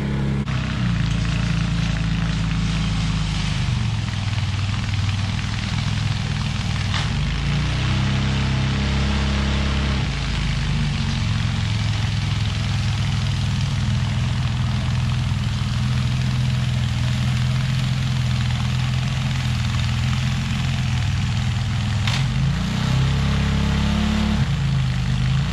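Ariens 24-inch Deluxe snowblower with a newly fitted carburetor running steadily and loud throughout while clearing fresh snow, its engine note holding a continuous drone with slight load changes.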